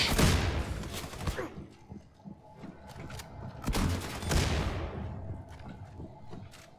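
Gunfire from a weapon in the video game Wolfenstein 2: two loud bursts of rapid shots, each trailing into a decaying roar, with scattered fainter impacts and clatter in between.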